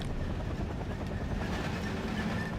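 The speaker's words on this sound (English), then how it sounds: "Mi-2 helicopter having to move around a bit" Mi-2 helicopter in the video game Wargame Airland Battle, a steady loud rotor and engine drone with broadband rumble, continuous throughout and without talk.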